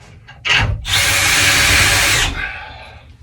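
Cordless power drill driving screws while a frameless door is installed, a short whir followed by a sustained loud high-pitched spin that tapers off, close by and without talk.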